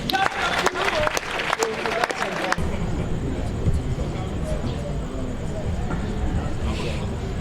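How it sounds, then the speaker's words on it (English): An audience at a live stage show bursts into a short round of applause welcoming a woman performer. The claps fade after a couple of seconds into a steady, loud crowd murmur. "With a big round of applause, let's welcome that lady"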